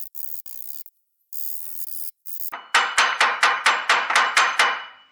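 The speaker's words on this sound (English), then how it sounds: "my guess is it's going to be a bang fest with the hammer" A hammer strikes repeatedly to drive a Toyota Prius rear wheel hub out of its housing, about ten loud metallic blows in steady rhythm, after a few shorter bursts of noise.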